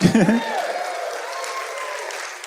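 A live audience applauds at a holiday stage show, a short burst of clapping that rises after a spoken line and fades under a voice talking over it.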